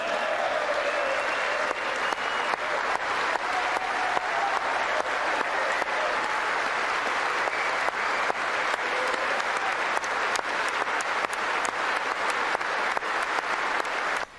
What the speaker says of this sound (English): I can hear his clapping,